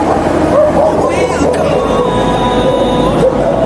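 A couple of dogs bark briefly in the distance beneath a person talking, amid a squealing metallic screech and constant background rumble at a ceramics works with kilns firing.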